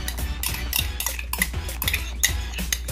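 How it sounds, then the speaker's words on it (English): Lime juice and ketchup being mixed together for baked pork ribs, a utensil clinking and scraping against a bowl in a steady, repeated rhythm, close and fairly loud, with no talking. "Mix it well."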